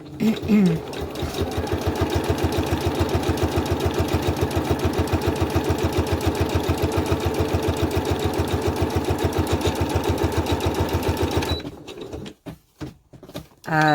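A sewing machine stitches in a fast, steady mechanical rhythm for over ten seconds, then stops, leaving a few soft clicks and handling sounds.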